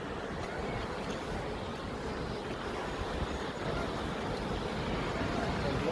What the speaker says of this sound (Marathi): तर इथून हा वॉटरफॉल पडतोय. हा गोकाकचा वॉटरफॉल फेमस आहे.